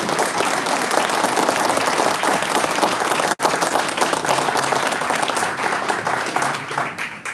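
Audience at a Republican primary governors debate applauding the candidates, steady loud clapping that fills the hall, with a brief dip midway before continuing and tapering at the end.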